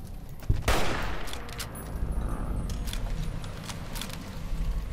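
Gunfire from bug-shooting combat in Fallout: New Vegas, at the Hidden Valley bunker: one sharp loud shot followed by a sustained crackling rattle of weapon noise and scattered clicks, with no talking.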